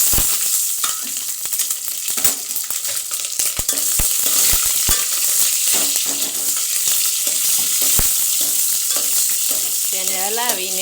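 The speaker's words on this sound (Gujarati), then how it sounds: "રાઈ તતડી જાય એટલે તેમાં મરચાં નાખી દઈશું।" Chillies frying in hot oil with mustard seeds over a medium flame give a dense, steady sizzle and crackle with stirring scrapes, close and continuous, with no talking.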